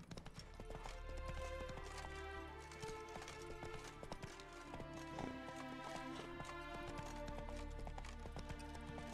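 Horse hooves clip-clop steadily in The Witcher 3, set against a dense bed of game music, with a few sharper footfall accents partway through.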